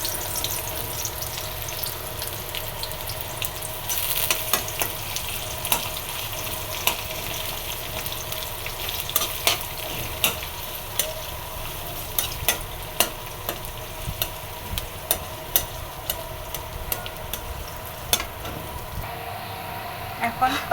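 Onions frying in oil at the start of a papaya stir-fry, a steady close sizzle with frequent clicks and scrapes of stirring running throughout.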